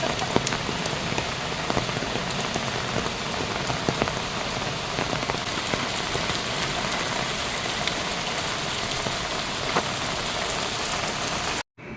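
Steady rain pours down on a hard surface, a dense continuous patter with scattered louder drops, with no voices.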